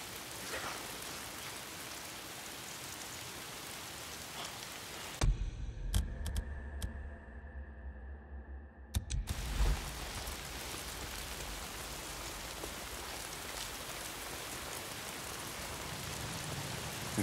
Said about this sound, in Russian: Проклятый дождь.